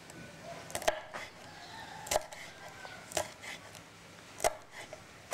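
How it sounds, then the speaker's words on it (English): Four sharp knife chops land on a board as a green chili is cut diagonally, spaced roughly a second apart over a quiet background with faint ambient sounds. "I'm going to cut the green chili into diagonal"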